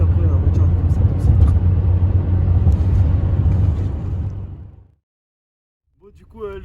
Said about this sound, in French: Elle broute un peu la voiture, non?